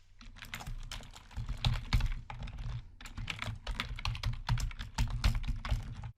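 Rapid, irregular keystrokes on a computer keyboard, close and fairly loud, in clustered bursts with brief pauses as a short line of Python code is typed into a Jupyter Notebook cell.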